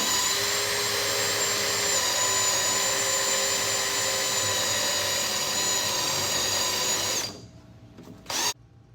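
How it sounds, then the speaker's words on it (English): A unibit step drill bit whines steadily and loudly while drilling for a NACA duct installation on a race car, then stops abruptly, leaving near silence and a brief final burst. "now we're just going to put our unibit on here"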